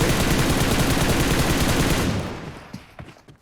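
Dense rapid gunfire from a video game, loud and continuous bursts for about two seconds, then trailing off into a few scattered fainter shots and quiet.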